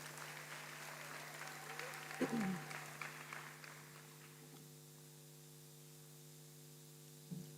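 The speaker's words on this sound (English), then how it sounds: "So another round of applause for them, please." Audience applause for a university choir at a graduation ceremony, moderate and fading over several seconds into a quiet hall hum, with a brief voice and microphone bump partway through.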